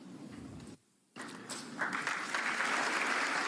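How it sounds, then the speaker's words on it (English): An audience claps at a political speech, steady applause from a large crowd that briefly cuts out, then resumes and swells louder toward the end. "why are they clapping for English common law and Magna Carta?"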